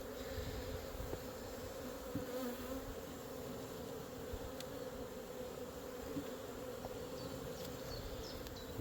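Honeybees buzz around an open hive in a dense, continuous hum. A few sharper insect passes cut through now and then, and no one speaks.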